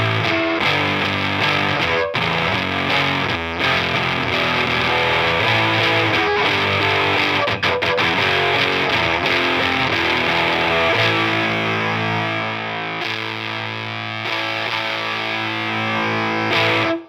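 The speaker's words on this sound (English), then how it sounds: "Let's go for the Erupter. Right, 9 volts. It sounds like this with maximum knobbage." An electric guitar played through an Erupter fuzz pedal at 9 volts with all knobs maxed, loud saturated distorted chords and riffs played steadily alone for the whole stretch.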